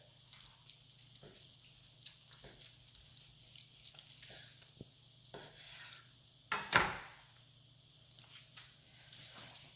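A knife slices through smoked, injected wagyu brisket on a board: faint, scattered cutting strokes and soft scrapes, with one sharper knock partway through, in a quiet setting.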